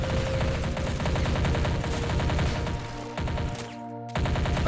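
Rapid gunfire in the battle simulation game Army Men of War, with dense bursts of machine-gun and rifle fire rattling almost continuously, broken by a brief lull near the end, and no talking.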